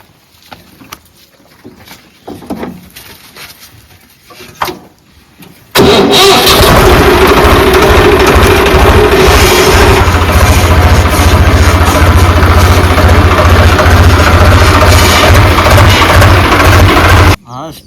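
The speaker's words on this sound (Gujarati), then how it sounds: "હા, ટ્રેક્ટર વાળો આવી ગયો." A tractor engine starts after some background talk, then runs loud and close at a steady, throbbing idle for about twelve seconds before cutting off.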